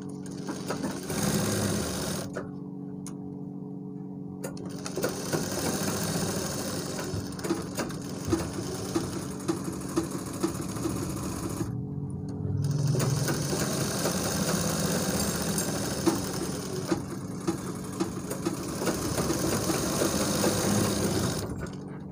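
A sewing machine top-stitches the back pocket of a pair of trousers in a steady, close run, with two brief pauses between bursts.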